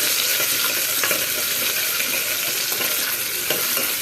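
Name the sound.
frying in a pan until brownish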